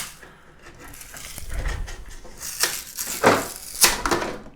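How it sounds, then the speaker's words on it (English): A small plastic spatula scraping and prying a finished 3D print off a printer's print bed, giving a few short scrapes and clicks that grow sharper toward the end. "But this time I'm going to use my little plastic spatula I got."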